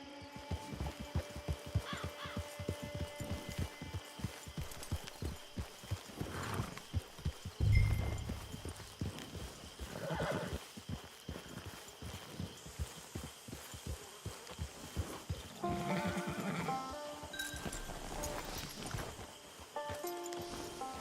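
Rhythmic hoofbeats of a horse trotting at a steady pace in the video game Red Dead Online, clopping continuously for a long stretch at a fairly quiet level with some low thumps.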